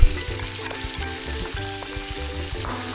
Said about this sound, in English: Now add some more oil to the wok. Now we're going to cook some shrimp.